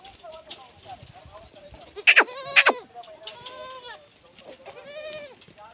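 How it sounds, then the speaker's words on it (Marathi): Several goats bleat nearby, sharp wavering cries over quieter background noise, with a couple of loud calls in the middle and more further off. "मस्त शेळ्या चालल्या आहेत बघा"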